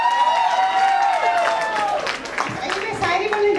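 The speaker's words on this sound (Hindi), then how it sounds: "मुस्कुराते हुए ताली बजा दीजिए," Audience clapping at a sangeet celebration, a dense run of applause lasting a few seconds over a busy hall with voices and music-like tones mixed in.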